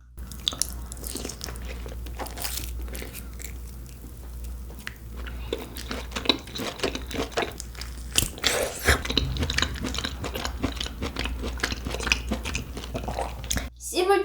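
Close-miked chewing of tender beef with black bean instant noodles: wet, squishy bites, tearing and sticky mouth sounds, with soft crunches and louder bursts partway through, over a low steady hum and a brief silent pause near the end.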